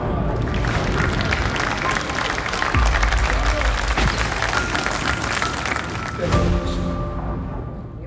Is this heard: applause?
yes